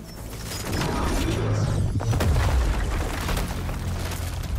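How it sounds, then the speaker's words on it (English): An explosion in God of War Ragnarök brings down a wall: a loud, sustained rumble of low booms and crumbling debris that fills nearly five seconds, with a sweeping shift in the middle as the wall gives way. "it's a tiny explosion that brings down the rest of the wall"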